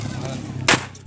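A firework rocket goes off with a single sharp, loud bang during Eid celebrations in Yemen, rising suddenly out of steady low background hum and murmuring voices, then fading quickly.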